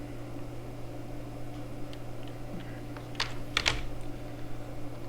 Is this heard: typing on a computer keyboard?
yes